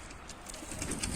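Soft pigeon cooing from a bird perched on a rooftop in the city, low murmuring calls rising slightly toward the end over a steady outdoor background.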